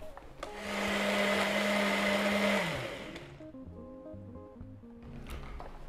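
A blender whirs loudly for about two seconds crushing ice and mango for a smoothie, then winds down, followed by quieter clinking and rustling sounds.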